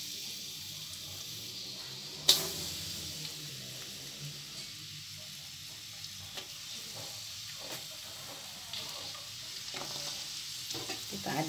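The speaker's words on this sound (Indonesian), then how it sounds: "Setelah panas, kita masukkan bawang merah dan bawang putihnya." Shallots and garlic frying in a hot wok of oil give a steady, moderate sizzle with a sharp crackle near the start and light stirring scrapes throughout, no voices.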